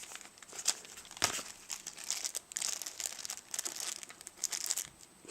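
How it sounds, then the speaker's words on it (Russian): Bubble wrap packaging around a USB Wi-Fi adapter crinkling as it is handled, close, irregular rustling bursts throughout with no talking. "В такой вот упаковочке с пупырчиками. Я ее уже вскрывал"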